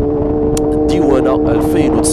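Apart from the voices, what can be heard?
Yamaha FZ6 motorcycle engine running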